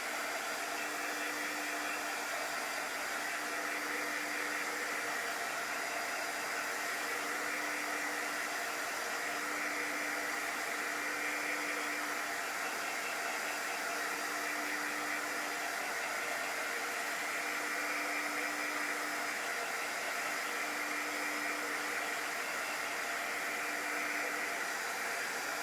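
A hair dryer blows nonstop at close range, a steady loud whooshing hum with a faint motor whine, drying a layer of chalk paste during a craft project.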